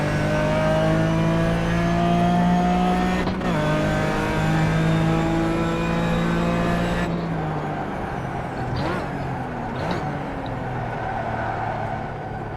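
Race car engine at Monza in iRacing, a loud steady high-pitched whine that drops in pitch on downshifts, then changes to a rougher, lower roar with a couple of sharp gear changes, heard close with no talk.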